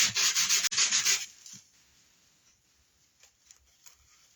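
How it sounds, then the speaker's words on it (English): Sandpaper of 120 grit rubs briskly over the edges of drop cloth fabric in a run of close, loud, rasping strokes, which give way to fainter scattered scratches and soft handling noises. "I have 120 grit sandpaper, and we're going to sand the edges of this fabric."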